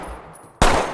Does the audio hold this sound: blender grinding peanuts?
no